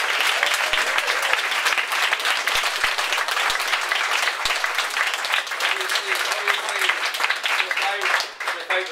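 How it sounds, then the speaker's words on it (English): Sustained audience applause at a theatre play performance, dense steady clapping throughout with a few voices briefly audible near the end. "Scott, Hazel, Paul and Carl, so a big round of applause for them"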